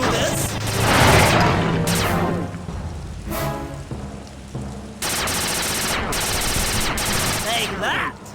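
Turret gunfire from a blimp in the video game Sly 2: Band of Thieves, dense rattling bursts that run nearly unbroken with brief pauses, loud and close under a roaring, rain-like wash of noise.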